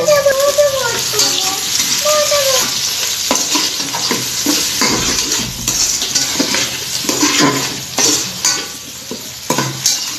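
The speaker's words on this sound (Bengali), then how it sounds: "আমি একটা টমেটো নিয়েছি এবার টমেটোটা ভেজে নেব" Tomato frying with already-fried onions in a pan, loud close sizzling with repeated stirring and scraping of a utensil against the pan throughout, occasional clinks.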